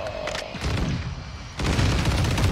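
Gunfire in a Search and Destroy video game match: scattered shots and booming impacts, moderately loud, with a short lull before a heavier stretch of firing resumes.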